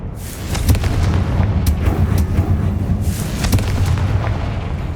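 A magic fire spell from Hogwarts Legacy detonates in a deep, loud boom, followed by rumbling debris and a few sharp cracks and crumbles in a stone ruin.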